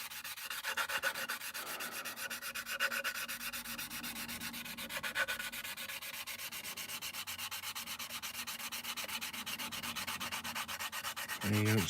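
Steady abrasive rubbing as plastic parts of an Airfix Concorde model kit are sanded down, continuous close back-and-forth scraping throughout.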